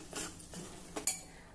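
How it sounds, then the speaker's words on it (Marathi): Utensil scraping and clinking in a pan as ground spice paste with a pinch of turmeric is stirred and fried in oil over very low heat, with a few brief scrapes and a sharp clink near the end, no voices. "अगदी मंद आचेवर आपल्याला छान तेल सुटेपर्यंत हे वाटण परतून घ्यायचं आहे।"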